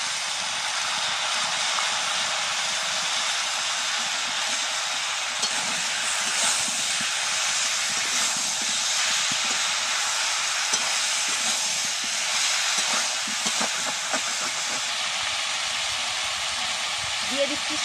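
Ginger and garlic fry in hot oil in a pan for a jackfruit and prawn dish, giving a steady loud sizzle and hiss throughout, broken by the scrape and clatter of stirring.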